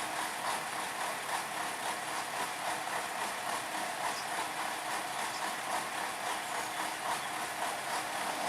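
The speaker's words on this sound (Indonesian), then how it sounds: "lokomotif D05 sudah melanjutkan perjalanan kembali" Steady rumbling of a D05 diesel locomotive hauling a string of sugar-mill lorries along narrow rails, a continuous broadband engine and wheel noise with no pauses, fairly close and even in level.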